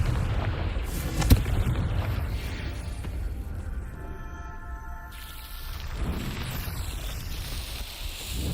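A Confringo spell blast erupts in Hogwarts Legacy gameplay, a sharp boom over a dense, rumbling game soundscape with lingering low roar and faint tonal effects afterward.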